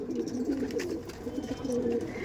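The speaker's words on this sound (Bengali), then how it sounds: "আর এটা হচ্ছে মেল পায়রা" Male and female Andhra breeder pigeons cooing softly and continuously, low rolling throaty coos heard at moderate distance, fairly quiet, with no speech over them.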